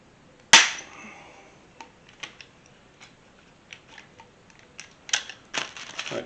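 A rivet is set in a 1973-87 Chevrolet C10 squarebody truck vent window, opening with one loud sharp snap followed by a series of small, close metallic clicks and taps.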